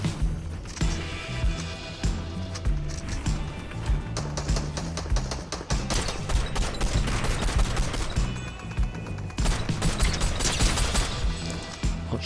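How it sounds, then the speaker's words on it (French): Dense, continuous video-game gunfire on a Squid Game map, rapid bursts and overlapping shots layered with crashes and busy action noise, loud throughout with brief bits of talk under the din. "Oh, je mets des balles aux gens."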